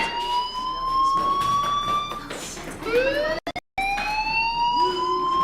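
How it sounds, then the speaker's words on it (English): A loud, continuous wailing fire alarm tone in the video game Life is Strange, rising and falling in pitch, close and insistent, briefly cutting out before resuming. "do you hear that fire alarm?"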